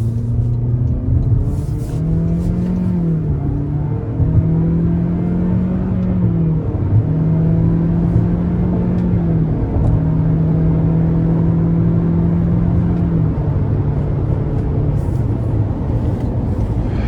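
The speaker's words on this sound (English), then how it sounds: "Let's give it a try here." A 2025 Toyota Corolla Cross XLE AWD with the 2.0 engine and CVT accelerating, its steady engine drone rising through several simulated shift steps, heard loud and continuous from inside the cabin with no talking.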